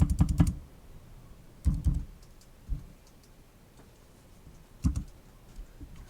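Typing on a computer keyboard at a 3D printer setup, a few short bursts of clattering keystrokes separated by quiet pauses, close and fairly soft with no talking.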